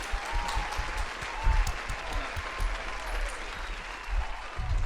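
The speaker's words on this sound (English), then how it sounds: "Give it a round of applause for my mom" An audience at a live psychic show breaks into applause, a dense, steady wash of many hands clapping for about five seconds, heard from a moderate distance with no clear voices over it.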